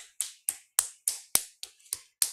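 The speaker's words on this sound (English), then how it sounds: "we're not used to tapping or clapping the backs of the hands" Backs of the hands tapped or clapped together in a gentle exercise, eight crisp, evenly spaced slaps in a steady rhythm, close and distinct with silence between.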